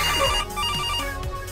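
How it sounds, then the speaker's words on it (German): A telephone rings in a cheap horror video game, an electronic trilling ring in two bursts separated by a short gap, loud and close, with no talking. "Ey, das Telefon klingelt."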